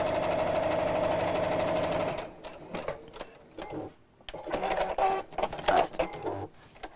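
A sewing machine stitching fabric for a half-yard Easter basket runs in a steady, even whir for about two seconds, then stops, leaving faint clicks and handling noises.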